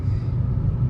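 A Hyundai Verna's engine drones as the car accelerates in sixth gear, a brief low steady rumble of motor and road noise from inside the car, with no talk.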